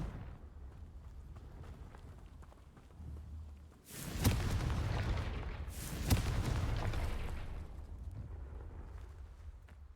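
A Confringo spell explodes in Hogwarts Legacy, two heavy booming blasts a couple of seconds apart, each with a sharp crack followed by a long rumbling tail over a quiet ambient bed.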